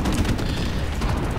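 A grenade blast in Call of Duty 4 Remastered team deathmatch, a dense low rumbling boom filling the short moment, loud and close with continuous heavy low-end texture and no talking.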